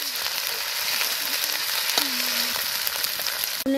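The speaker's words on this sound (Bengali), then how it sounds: "এখন জিরে বাটা দেব" Cumin paste hits a pan of country chicken curry frying outdoors at a winter picnic, giving a steady loud sizzle with light stirring scrapes and a brief clatter near the end.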